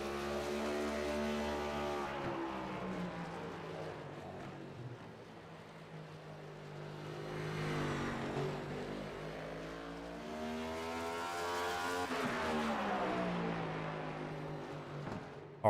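A CMS 125 race car on its first lap down the front stretch of a track, its engine droning with rising and falling revs in long sweeps, heard from a moderate distance.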